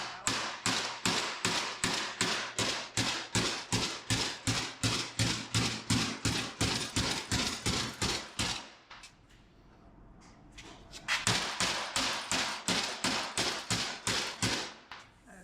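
A hammer taps on sheet metal while a custom bumper is fabricated for a 1959 Apache truck: rapid, evenly spaced ringing blows, a short pause, then another quick run of taps.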